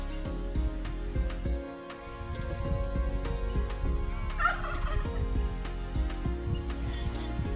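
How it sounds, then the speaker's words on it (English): Harsh, guttural great blue heron calls repeat close by in a rapid, overlapping series, croaking and rattling throughout without pause. "Beautiful sounds of the blue heron."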